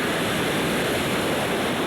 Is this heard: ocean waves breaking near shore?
yes